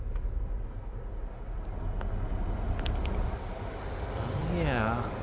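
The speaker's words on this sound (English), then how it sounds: "It's blowing full speed and it sounds good." Toyota Sienna HVAC blower motor, newly replaced, running at full speed: a steady, broad whooshing rush of air that holds even throughout, with a few faint clicks and a brief rising-falling whine near the end.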